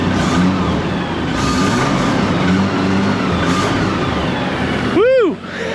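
An unhealthy Toyota 80 Series Land Cruiser engine idles with a steady, rough rumble close by, then a brief rising rev swells near the end before dropping away.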